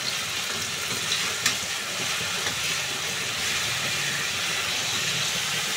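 Onion, garlic and chili paste frying in hot oil for an eggplant curry, a steady close sizzle with faint stirring scrapes, no talking.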